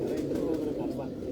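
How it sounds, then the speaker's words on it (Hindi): A large racing pigeon at a pigeon-flying contest in Lahore gives a low, soft coo, close by and mixed with nearby voices talking. "ये इनका सबसे बड़ा कबूतर है"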